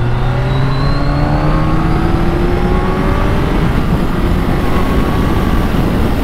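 A BMW K1300S motorcycle accelerates hard past cars on a dual carriageway, its engine note climbing steadily in pitch through the gears under loud, constant wind roar, close and sustained with no talking.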